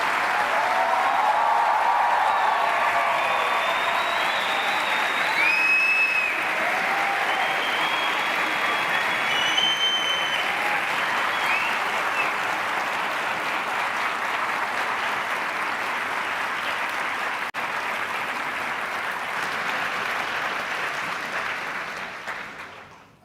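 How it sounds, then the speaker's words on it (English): A debate audience gives the arriving speakers Djamila Ribeiro and Leandro Karnal a long, loud round of applause. The hall fills with steady, dense clapping that stays strong for about twenty seconds before fading out at the end. "let's welcome them with a round of applause"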